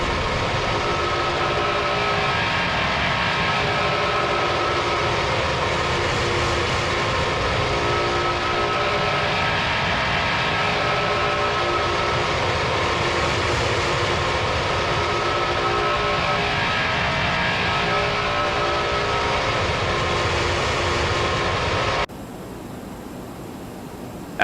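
Engines of a Boeing 767 freighter in a flight simulator, a loud continuous broadband roar and hum that holds steady before dropping sharply to a quieter level near the end.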